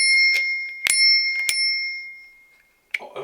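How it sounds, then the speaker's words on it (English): A cheap bell on an ENGWE P20 folding bike rings with a few bright metallic dings, each leaving a clear ringing tone that slowly fades, followed by a faint rattle near the end. "We have a bell."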